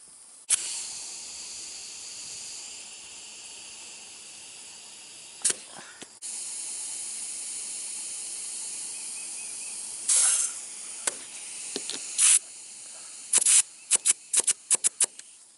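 Air hisses from a bad valve stem on a tire of a Manco Dingo: a sustained soft leak, then a series of short, sharp bursts that grow choppier toward the end, with no talking.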